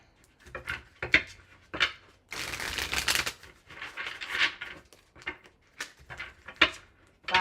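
Tarot cards are shuffled close up, with sharp riffling bursts and slaps in an uneven rhythm and one longer rapid riffle in the middle, recorded alone without talk.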